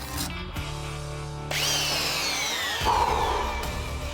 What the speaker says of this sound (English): Never has the mighty roar of a belt sander been so welcome